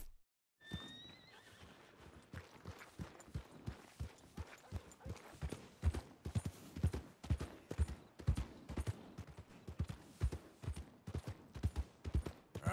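Horse hooves from a ridden horse in the game Red Dead Redemption 2, a steady rhythmic clip-clop of quick regular strides, close and clear, beginning after a moment of near silence and a short whinny.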